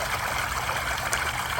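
A powerful water jet from a pool return streams steadily and fairly loudly close by, a continuous rushing trickle with no talk over it.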